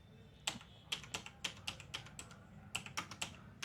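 A mobile number is typed on a computer keyboard in a quiet room. About a dozen crisp, close key clicks come at an uneven pace, with short pauses between small bursts.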